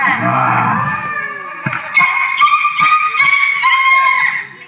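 During a Tamil Ramayana stage drama, a human voice imitates a dog, whining and yipping in a run of short, tonal barks and whimpers, close and fairly loud.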